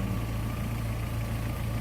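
A Rover 800 engine idles through an old, second-hand exhaust, giving a steady, low, rumbling drone with an even pulse and no voices.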